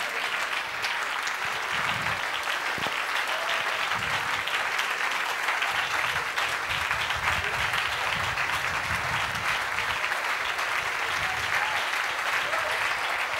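A congregation clapping at a church graduation ceremony, dense continuous applause from many hands, steady and moderately distant, with faint voices and shouts underneath throughout.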